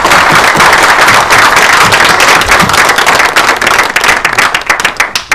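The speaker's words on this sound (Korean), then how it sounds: "공감하시면 박수를 쳐달라고 그러려고 했는데 여러분들이 먼저 그렇게 해주셔서" A crowd at a political party lawmakers' meeting in the National Assembly bursts into loud, dense applause, with sustained rapid clapping close by and sharp individual claps standing out toward the end.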